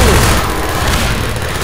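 A grenade blast in the video game Half-Life 2: a loud, heavy burst at the very start that fades into a rolling, rumbling roar lasting over a second.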